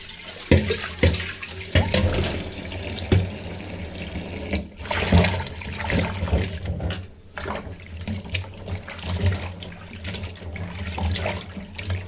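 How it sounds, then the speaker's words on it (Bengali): Tap water runs over vegetables being washed in a sink for a tomato fish curry, an uneven splashing flow that rises and dips as the vegetables are handled, close and fairly loud. "তো এখন তরকারিটা ধুয়ে নেই"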